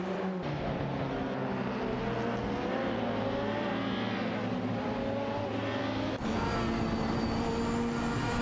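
Cars race closely on a circuit in an AI racing video game, including a Volvo 850, Alfa Romeo 156 GTA and Ford, their engines droning steadily with a sharp shift in tone near the end.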